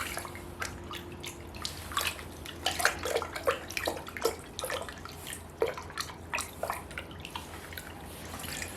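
Hands being washed with homemade soap under running water, a close mix of splashing, dripping and irregular wet rubbing bursts over a steady trickle, with no one talking.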